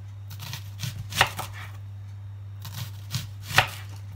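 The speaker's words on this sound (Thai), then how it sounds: "หั่นก็หั่นหนาๆหน่อยจ้ะอย่าหั่นบางมาก" A knife cuts through an onion on a board in thick slices for frying, a handful of crisp separate chops spaced about a second apart with a steady low hum behind them and no talk.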